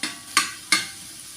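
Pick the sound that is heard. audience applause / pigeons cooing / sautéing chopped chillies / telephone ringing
sautéing chopped chillies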